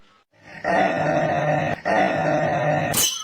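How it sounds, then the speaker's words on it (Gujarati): A dog growls and barks back in a continuous rough, loud stretch close by, with a brief break midway and a higher sharp yelp at the end; no talk is heard. "આ કુતરો પણ સામે હોંકારા કરે છે"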